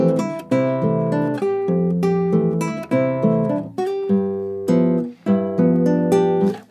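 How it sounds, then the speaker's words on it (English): A guitar plays a bossa nova groove of a song, melody and chords together, in rhythmic plucked phrases with ringing sustained notes, close and clear with no voices. "Where you're playing that basic bossa groove as well as the melody"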